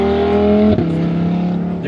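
A Lamborghini Murcielago at Lime Rock Park during an SCCA weekend, its engine a loud, steady harmonic drone that drops abruptly in pitch partway through as it passes nearby on track.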